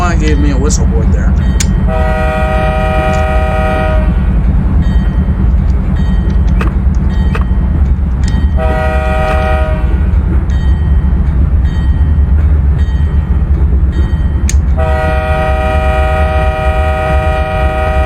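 Loud, sustained blasts of a BNSF locomotive horn in the Open Rails train simulator as an intermodal train crests the Cajon Pass grade. Three long horn sounds ride over steady engine rumble, with no voices.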